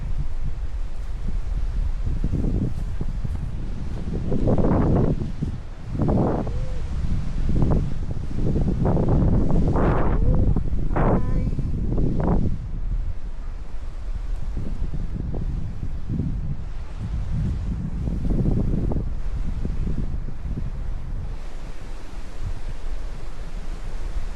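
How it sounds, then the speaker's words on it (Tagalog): Strong gusting wind buffets the microphone in heavy, rumbling surges, roaring louder and softer over a constant rushing background, with no voices. "Lakas ng hangin."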